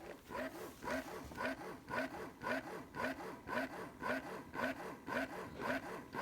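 A Medela electric breast pump runs in a steady rhythmic cycle, about two pulses per second, with a soft whooshing suction sound, quiet and close.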